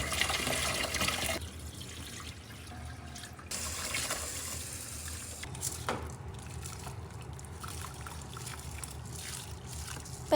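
Water runs and trickles into a cooking pot for boiling rice, a faint steady pouring stream with small splashes and a few brief clinks, heard alone.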